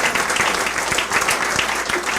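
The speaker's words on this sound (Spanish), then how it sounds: "Dé un aplauso al Señor." A church congregation at a memorial service applauds in a dense, continuous roar of many hands clapping, loud and close, with faint thumps mixed in.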